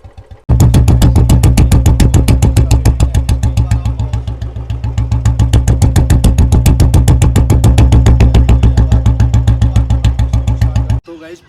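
A Royal Enfield Bullet BS3 motorcycle idles close and loud in a fast, steady thumping beat that runs unbroken for about ten seconds, starting and stopping abruptly.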